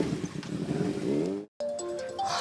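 A motorcycle engine runs close by, a short mid-pitched drone rising in pitch as it revs, then cutting out abruptly for an instant before a brighter tone follows.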